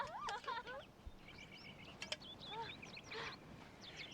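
Birds outdoors give quick chirps and warbling calls, several overlapping at moderate distance, with a voice speaking faintly underneath.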